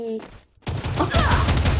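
Gunfire in a shooting video game, a dense run of rapid shots that starts after a short pause and keeps going close and loud, with a voice under the shooting.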